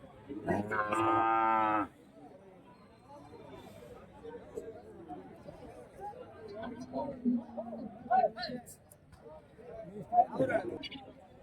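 At a cattle market, a cow gives one loud, close moo, then lower-level crowd chatter and people talking continue with more scattered animal sounds.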